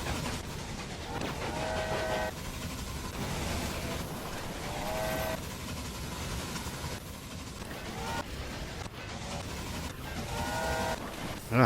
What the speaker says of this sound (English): So many train services running